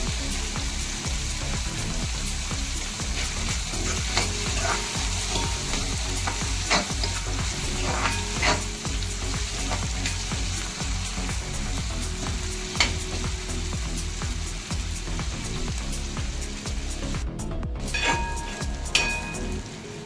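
Tomato masala for a green peas aamti fries in a pan while being stirred, a dense continuous sizzle and crackle with repeated scraping strokes, close and fairly loud, with a few sharper clinks near the end.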